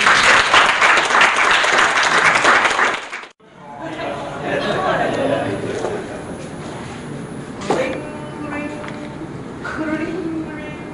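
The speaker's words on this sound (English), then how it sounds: "Give Crystal a round of applause, please." An audience at a sales seminar claps for a volunteer in a loud burst of applause that cuts off abruptly, followed by murmuring, voices and shuffling room noise.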